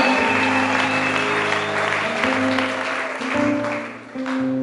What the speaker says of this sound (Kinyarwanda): Amashyi menshi kuri Kristo ubuzima bw'abantu bose